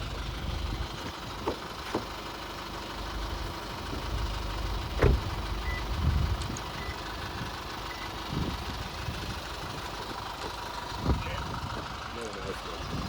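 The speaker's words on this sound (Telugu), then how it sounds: "ఇంజన్ నాయిస్ ఎలా ఉంది?" A Toyota Innova Crysta engine idles in a steady low hum after a carbon-cleaning fuel additive treatment, with a few faint clicks and thumps over the even drone and distant voices in the background.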